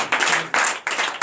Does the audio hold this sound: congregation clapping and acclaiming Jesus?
yes